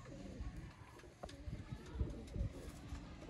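Breeder pigeons in a loft cooing, soft repeated low coos close by, overlapping one another against a murmur of background noise.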